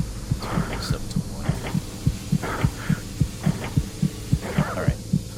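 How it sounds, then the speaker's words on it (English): A video game horror level plays a looping heartbeat effect as the character runs out of air, a loud steady thump-thump pulse over a low hum, with choking breaths and other game sounds layered in between. "the heartbeat comes in because I'm running out of air."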